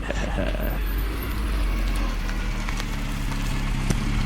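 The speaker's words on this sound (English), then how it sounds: "I think I hear a car." A big sedan's engine rumbles steadily as a car approaches in an old radio drama, a continuous broadband drone filling the scene from start to finish with no voices over it.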